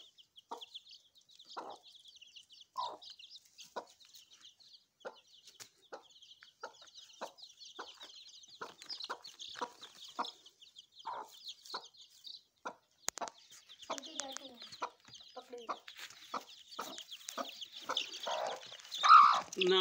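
A hen clucks in short, spaced calls from a moderate distance, steady soft clucks that grow busier and louder toward the end, with faint chick peeps and farmyard background and no talking.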